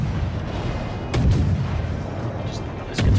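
Warship main-battery guns firing a salvo in World of Warships, heavy booming reports that swell, plus a couple of sharper cracks over a low rumbling background.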